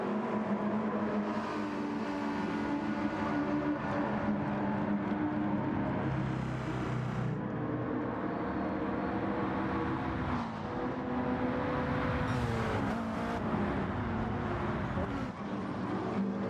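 Race cars lap Autopolis in a racing game, engines droning and shifting pitch in a steady, moderately quiet stream as cars pass, with no break in the sound.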